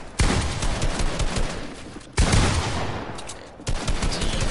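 Pump shotgun blasts in a fast-paced competitive shooter match, three loud, abrupt bursts spaced about two seconds apart, each cutting through a dense wash of gunfire and game noise.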